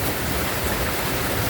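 Heavy rain during a typhoon at a farm, a dense, even hiss of downpour with no breaks.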